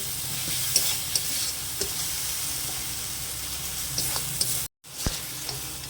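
Ivy gourd (kundri) cooks in a pan with ground spices and a splash of water, giving a steady low sizzle with occasional scrapes of stirring and a brief break near the end, with no talk.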